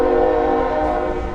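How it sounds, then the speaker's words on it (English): A passing train sounds a loud, sustained horn-like tone with a low rumble beneath it, steady and close, with no talking. "the train certainly will help on the audio side"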